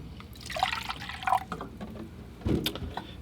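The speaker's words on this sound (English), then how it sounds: "So I'll change my water." Fresh, clean water being poured and splashed into a watercolor painter's rinse container, with irregular trickles and drips, a louder splash near the end, and no talking.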